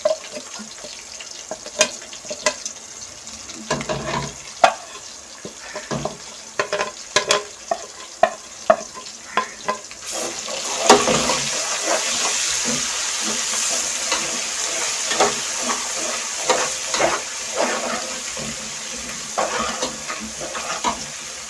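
Garam masala spices and onions for aloo matar pulao are stirred in a pan with sharp spoon knocks at first, then a loud, steady frying sizzle takes over as stirring continues up close.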